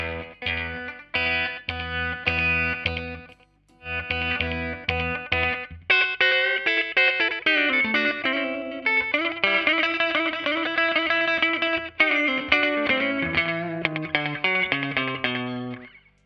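An electric guitar plays chopped chords, then a sustained melodic run, with a distorted, effected tone and audible reverb tails from the amp's reverb between notes.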